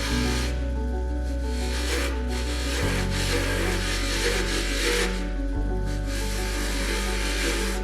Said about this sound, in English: A few gentle touches with the polishing wheel and it shines like new.